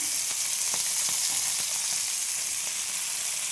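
Nigella seeds land in a hot frying pan of oil and set off a bright, continuous sizzle with a few sharp crackles near the start.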